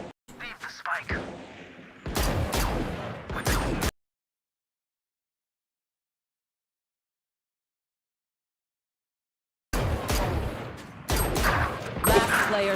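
Bursts of video-game gunfire, including a sniper shot from a Marshall rifle, crackle loudly in two clusters separated by several seconds of dead silence, with a voice talking between the shots.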